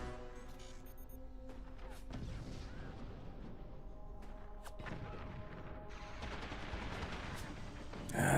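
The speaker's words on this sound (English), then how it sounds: "That's a lot of minigun." Minigun fire in a video game, a steady, dense rattle that runs for several seconds at moderate loudness, with sharper bursts layered on top and a louder surge at the very end.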